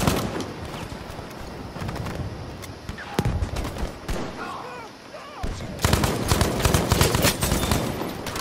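Dense gunfire from the Battlefield V video game: sharp broadband shots and bursts crack repeatedly across the whole span, some near and loud, others distant, with a heavy sustained barrage swelling toward the end and faint game chatter underneath.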